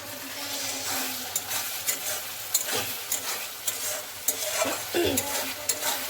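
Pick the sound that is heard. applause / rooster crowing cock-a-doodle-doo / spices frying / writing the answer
spices frying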